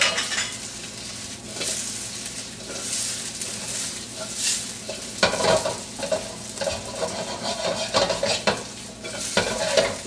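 Meat browning over high heat in a hot pan with garlic and onion for papaitan, a loud steady sizzle broken by repeated spatula scrapes and clanks of utensils against the pan, close up, without talk.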